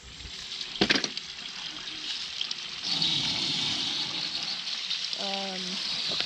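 Water is sucked out of a pool while it is being closed with cover clips and pool wrap, giving a steady rushing, gurgling flow that grows fuller partway through, with a brief clatter and a short voice near the end.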